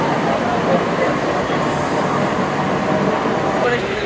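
Metro train at Chandni Chowk station in Kolkata, a continuous rumbling roar of cars running along the track, loud and close, with a hint of squeal near the end.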